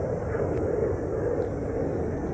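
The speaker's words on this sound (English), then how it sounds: "It's the last day of the air show in Toronto. So it keeps getting quite noisy." Aircraft engine drone from the Toronto air show fills the air as a steady, fairly loud low rumble, holding constant without any clear pass-by peak.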